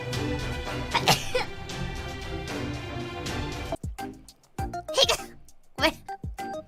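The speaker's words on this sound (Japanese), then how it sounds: "喋ろうとしたら軽くくしゃみが出た。" A voice actor lets out a light sneeze right as she starts to talk, a short sharp burst amid her chatter, followed by a few more brief breathy bursts and clicks near the end.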